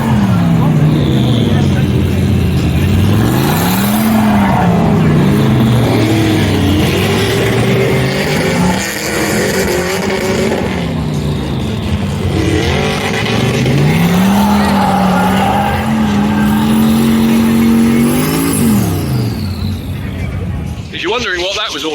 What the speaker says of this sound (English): They do tyre warming before they start.